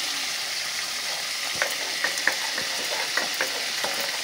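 Tilapia fish fry in hot oil with a constant close sizzle, broken by several sharp spits and light clicks of stirring scattered through the middle.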